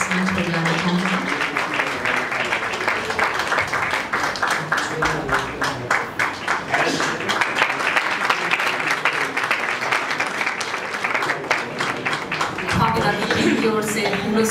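Applause from the audience at a ghazal musical night as singers are welcomed to the stage, rhythmic clapping sustained across the whole stretch, with voices talking over it near the start and end.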